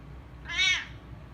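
A pet cat gives a single short meow, fairly close and clear over a quiet background.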